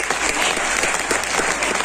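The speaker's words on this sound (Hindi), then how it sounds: "जोरदार ताली आप सभी लोगों के लिए" A training-session audience at a youth icon event gives a hearty round of applause, brisk dense clapping at steady loudness from start to finish.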